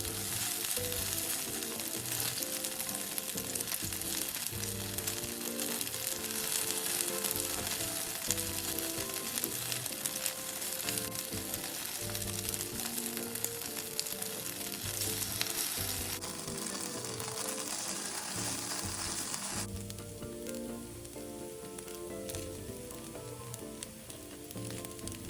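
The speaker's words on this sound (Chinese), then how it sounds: "果饺煎至焦脆是关键，不要急于翻动。" Pieces of pandan rice cake pan-frying in plenty of oil, a continuous close sizzle and crackle holding steady throughout with occasional stirring and no talk.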